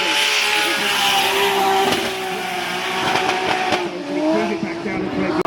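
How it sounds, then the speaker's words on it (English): A 1000 horsepower Toyota A90 Supra drift car smoking its tyres off the line at a drift event, a loud sustained engine roar with squealing tyres and rising revs, a commentator talking over it. "he smokes the tyres off the line in this 1000 horsepower A90 Super"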